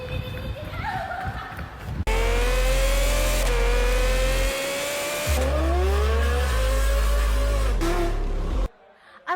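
A Ferrari engine revs hard in bursts, its pitch climbing and dipping with deep rumbling lows, loud and near, broken by short pauses and shifts between rev surges.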